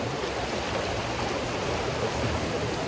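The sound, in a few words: flowing water of the Hinaguan River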